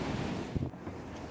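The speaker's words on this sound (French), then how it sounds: "il y a de plus en plus de vent" Steady wind roars across an outdoor apiary beside the beehives, with broadband microphone buffeting and a brief louder gust midway; no one speaks.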